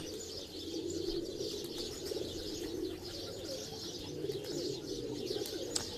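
Pigeons coo softly on a rooftop in a steady, low murmur, with occasional chirps and faint wing flutters in the background.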